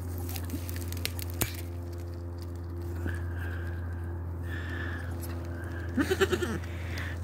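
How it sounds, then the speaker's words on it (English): A newborn baby goat bleats in thin, high cries a few times, the last a short wavering run, faint and close over a steady background hum and soft rustling, with no clear speech. "That is a baby goat just born"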